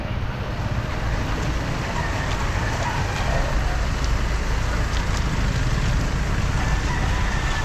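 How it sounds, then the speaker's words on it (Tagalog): Chickens, covered and kept by sellers at the Bocaue pet market, under a dense, steady wash of market noise and rain-like hiss that persists throughout. "mga manok nila"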